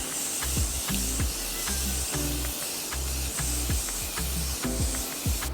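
Morphe Continuous Setting Spray mists onto a face in a quick run of rhythmic pumped spritzes, each with a soft hiss and a low mechanical click, repeating evenly and close by.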